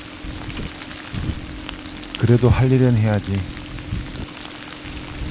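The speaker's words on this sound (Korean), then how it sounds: "진짜로 비만 계속 내린다" Steady rain falls outside as a soft, constant hiss that runs beneath the whole stretch, fairly faint, while a person speaks briefly in the middle.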